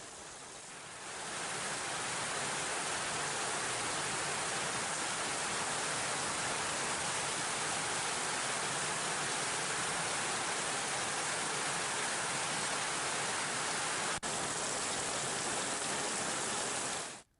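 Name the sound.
heavy rain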